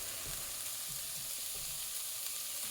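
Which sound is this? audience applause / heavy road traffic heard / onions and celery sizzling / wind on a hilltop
onions and celery sizzling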